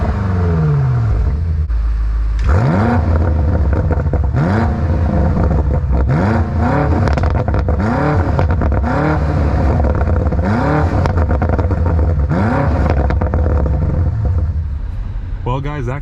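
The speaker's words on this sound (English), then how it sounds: "got to get you the exhaust clip." A 2025 BMW M8 Competition with its S63 V8 revs hard and loud, the exhaust note swelling and falling in repeated blips and rising sweeps, with a brief quieter lead-in before the throttle opens up.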